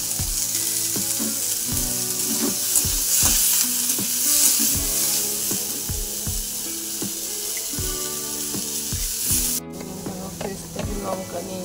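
Food sizzles steadily in a hot pan while a utensil scrapes and clinks against it in repeated stirring strokes, close and loud throughout, with a sharp clatter near the end.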